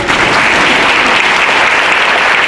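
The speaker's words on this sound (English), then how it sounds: "see if this clapping thing works" An audience at a high school graduation ceremony claps loudly and steadily, a dense, continuous wash of applause with no pauses.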